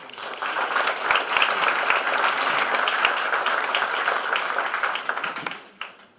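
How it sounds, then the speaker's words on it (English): A large audience at the World Economic Forum in Davos gives dense, sustained applause for several seconds, then stops abruptly, with a few final claps. "join me in a big round of applause for Ikram Cycle Saab for it."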